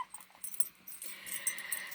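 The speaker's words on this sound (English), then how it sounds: "It's usually fairly crazy around here with dogs." Several household dogs whimper and whine in short, high-pitched bursts close by, with soft snuffles and no one talking.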